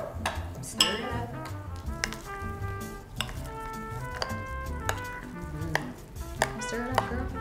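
A spoon stirs chopped basil into a dish of roasted beets, with repeated scraping, clinks and taps against a bowl forming a busy, close rhythm.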